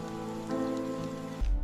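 Steady rain patters on a surface behind a sustained tonal drone that shifts pitch partway through, ending in a low rumbling thump.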